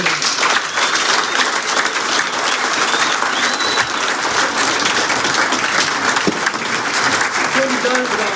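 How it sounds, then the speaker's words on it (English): Lodge members at a Masonic officer installation applauding a brother, a loud, dense round of clapping filling the room for the whole stretch, with some voices mixed in under it. "I'd like to give him a round of applause"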